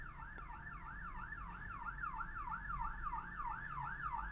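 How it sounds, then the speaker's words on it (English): Ambulance siren wailing in a fast, regular rising-and-falling sweep, fairly faint and distant, continuous throughout with no talking. "Oh, it's actually an ambulance this time."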